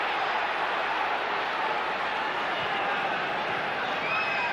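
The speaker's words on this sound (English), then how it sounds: "Beckham, it's got the crowd going." Football stadium crowd at a Manchester United versus Fenerbahce Champions League match, a dense, continuous roar that stays loud and steady throughout, with no clear individual voices standing out.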